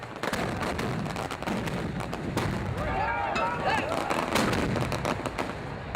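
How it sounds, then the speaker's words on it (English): A festival fireworks display in San Salvador, Cuba, with a steady barrage of pops, cracks and deep thuds. The bursts are dense and continuous over six seconds, with crowd noise beneath them. "San Salvador has already started their fireworks display."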